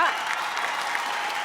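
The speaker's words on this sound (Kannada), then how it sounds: "ಒಂದು ಚಪ್ಪಾಳೆ ನಮ್ಮ ಅಮೇಝಿಂಗ್ ಜಡ್ಜಸ್ಗೋಸ್ಕರ" A studio audience at a TV comedy show claps for the judges: dense, steady applause, fairly loud and even throughout, with no pauses.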